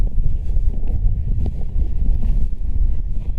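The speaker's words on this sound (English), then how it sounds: "man, I'm walking right into the wind here." Wind buffets a microphone outdoors while someone walks into it, a continuous low, rumbling roar with uneven gusty pulses and no other clear sounds.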